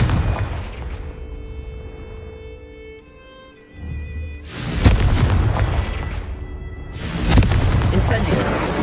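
In the video game Hogwarts Legacy, Confringo explosive spell blasts go off in heavy, booming bursts, with loud impacts around the middle and near the end over a rumbling game soundscape.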